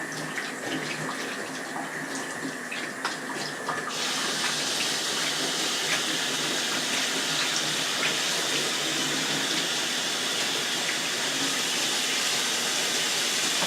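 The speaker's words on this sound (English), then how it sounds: "I need to wash my hands, and then we're going to fry them." Running tap water splashes steadily over hands at a kitchen sink during cooking of fried butternut squash, a continuous close rush that grows fuller after the first few seconds, with no talking.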